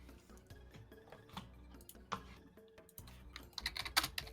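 Typing on a computer keyboard, with rapid irregular key clicks running steadily throughout and a few louder, denser bursts near the end, heard alone at close range.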